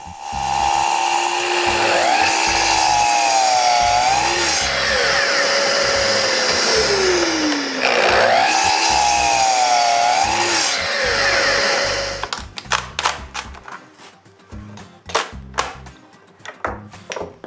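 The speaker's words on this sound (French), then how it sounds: "je fais l'entaille avec une série de coupes" A power saw makes a series of cuts to notch a wooden beam, loud whining runs with pitch dipping as the blade bites, then a stretch of sharp knocking and chipping sounds.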